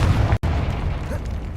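In Hogwarts Legacy, a Confringo fire spell detonates with a deep, heavy boom, a brief rumbling blast cut by a sudden drop to silence, followed by lingering low-end roar.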